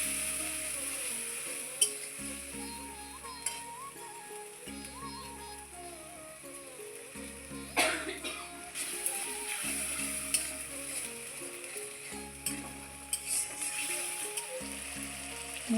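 A ground ginger and cumin paste fries in oil for a dal with winter vegetables, giving a steady soft sizzle with a humming background, occasional clinks and scrapes of stirring.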